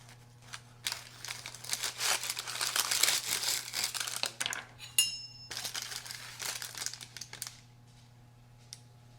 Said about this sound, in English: Hear the crunchiness on the crust.